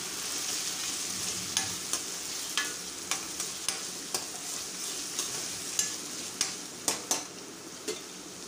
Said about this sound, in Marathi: टमाटरसुद्धा थोडासा परतून घ्यायचा तेलामध्ये